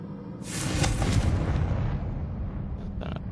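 A Confringo fire spell explodes in the Hogwarts Legacy video game, a loud close blast that swells into a sustained rumbling roar lasting several seconds, with a couple of faint crackles near the end and no talking.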